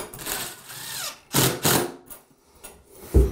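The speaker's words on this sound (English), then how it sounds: "And then we'll finish screwing it in." A power drill drives screws while installing a safety grab bar, whirring in short bursts of varying length separated by pauses, close and fairly loud, with a sharp knock at the end.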